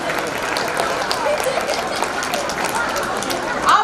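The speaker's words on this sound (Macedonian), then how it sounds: "Ве молам еден голем аплауз." An event audience applauds for two performers at the close of a children's science lab project, a dense, sustained wash of many hands clapping with crowd murmur and voices mixed in.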